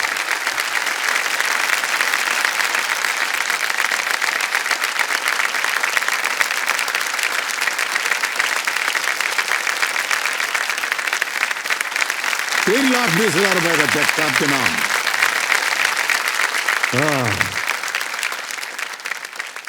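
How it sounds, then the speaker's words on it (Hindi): Loud, sustained studio audience applause on the Indian TV quiz show Kaun Banega Crorepati, greeting a contestant's ₹3,20,000 win, with a host speaking over it and brief musical stings near the end. "जोरदार तालियां बच जाए इनके लिए"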